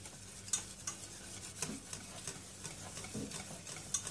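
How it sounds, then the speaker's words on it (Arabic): Nacho cheese sauce melts in a pot while being stirred, giving soft, quiet scraping strokes and light taps of a utensil over a faint low simmer, with no one talking. "هي عم تدوب بس نضلنا عم نحرك فيها"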